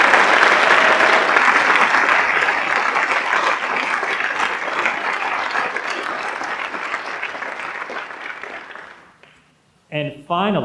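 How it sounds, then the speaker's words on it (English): Steady applause from a school staff recognition ceremony crowd honoring 25-year staff veterans, loud and sustained for about nine seconds before fading out, followed by a brief voice. "We could have a round of applause for all of our 25-year veterans."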